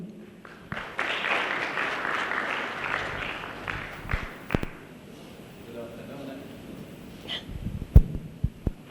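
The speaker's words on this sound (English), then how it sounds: "Please, a round of applause to welcome him." Audience applause at a legal forum session on antitrust and competition law litigation in Bahrain, loudest in the first few seconds, then thinning into scattered claps, voices and a few sharp thumps near the end.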